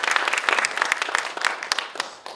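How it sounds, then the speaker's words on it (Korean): An audience at a youth-friendly city cultural centre session applauds a lecturer, a close, dense burst of clapping that thins toward the end, with no talking over it. "오늘 우리 강의해 주신 권상우 대표님께 한번 박수 한번 부탁드리겠습니다"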